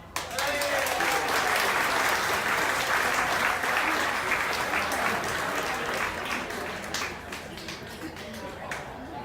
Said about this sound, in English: Ladies and gentlemen, please give a huge round of applause for Mr. and Mrs. Nam.